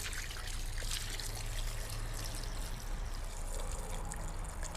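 Water is poured over green olives in a bowl, a continuous close trickle and splash lasting several seconds with no talking.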